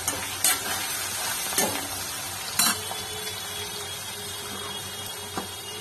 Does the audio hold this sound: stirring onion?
yes